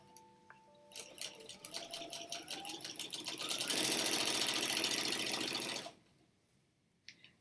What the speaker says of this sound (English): I'm going to sew it to the bag